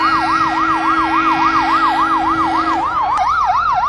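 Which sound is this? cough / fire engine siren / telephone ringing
fire engine siren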